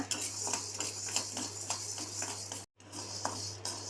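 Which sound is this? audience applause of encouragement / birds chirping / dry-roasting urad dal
dry-roasting urad dal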